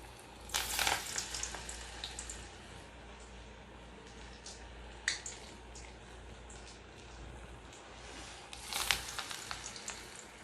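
Quiet, steady sizzling of spinach vada frying in a shallow layer of hot oil, with a few brief louder crackles and clatters over the low bubbling.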